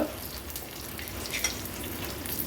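Tempering of ginger-garlic crush, cumin, green chilli, curry leaves and asafoetida sizzling in hot oil, a steady close crackling fry with brief bursts of spitting and no talk.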